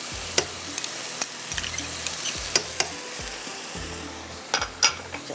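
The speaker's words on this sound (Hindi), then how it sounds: "क्रीम डाल देते हैं" Cream being stirred into makhni mutton in a hot pan, with a soft simmering sizzle and distinct spoon scrapes and taps against the pan recurring every second or so, close and clear.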